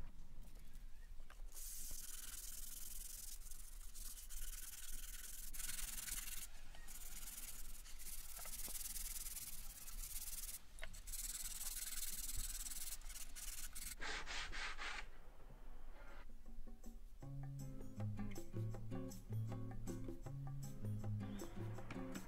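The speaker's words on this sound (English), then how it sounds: "I just gave it all a light sanding over with a 60 grit sandpaper, just to remove any splinters" 60 grit sandpaper rubbing over a wooden open-fronted robin nesting box, a steady close scratchy rasp that runs on for a long stretch, briefly interrupted, then giving way to different sounds near the end.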